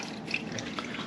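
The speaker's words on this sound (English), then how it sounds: "You want to kind of let them drip dry as much as you can into the bag" Brine drips from whole chickens being lifted out of a turkey brine bag, a soft wet patter of small drops over a steady faint watery background, low and close.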